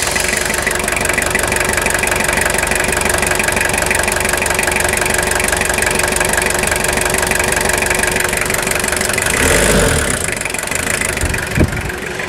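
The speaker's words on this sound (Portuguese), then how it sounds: "Agora eu vou filmar o funcionamento desse motor." A Toyota Hilux SR pickup's diesel engine, started after sitting unused for a year, idles steadily and close, with a knocking, rattling rhythm and a brief rev or thump near the end.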